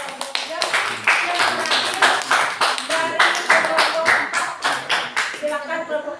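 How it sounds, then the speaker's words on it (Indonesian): Classroom students clapping for a group that just presented, a dense run of close hand claps with uneven rhythm, some voices mixed in underneath. "Beri tepuk tangan untuk kelompok 3."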